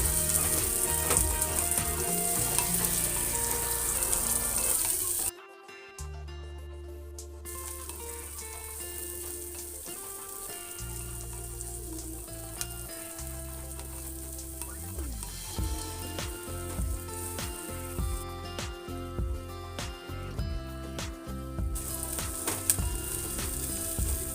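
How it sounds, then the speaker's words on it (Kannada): Sliced onions with curry leaves sizzle in a pan while being softened for a horse gram stir-fry, a quiet, continuous frying hiss with a short break and occasional stirring scrapes. "ಉಳ್ಳಾಗಡ್ಡಿನ ಮೆತ್ತಗಾಗುವವರೆಗೂ ಸ್ವಲ್ಪ ಹುರ್ಕೊಳ್ಬೇಕು"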